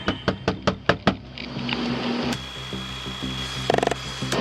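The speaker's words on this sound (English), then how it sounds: "Something just hit the door." A burst of about six sharp, loud knocks strikes an apartment door during a Houston police warrant raid, followed by clattering and thumps against the door and a quick rattling flurry near the end.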